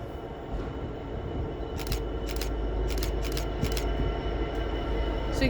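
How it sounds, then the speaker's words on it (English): Long container freight train passing through Stafford station on the West Coast Main Line, a steady rumbling roll of wheels and wagons with repeated clicking and clanking over the rails. "Looks like it's a giant container train."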